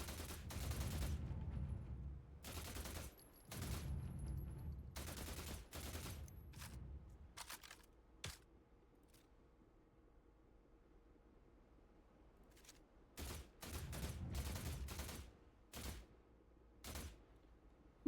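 Gunfire in a video game with visible bullet drop: several loud, rapid bursts of shots in clusters, separated by quieter gaps with a few isolated single cracks, and no voices.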